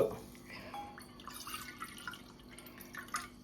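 Water poured into a pot for black kavuni rice porridge, heard as close, fairly soft splashing and dripping, with someone talking over it.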